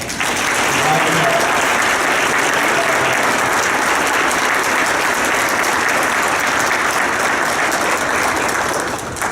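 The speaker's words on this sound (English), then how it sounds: "one more big round of applause" A big, loud round of applause from a conference keynote audience, dense and sustained clapping at a steady level for over nine seconds, with some crowd voices blended in.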